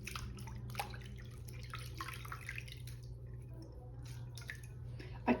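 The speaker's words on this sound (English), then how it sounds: "Sock washing day." Water dripping and sloshing softly in a sink while socks are hand-washed, a steady low hum underneath and a small splash near the end.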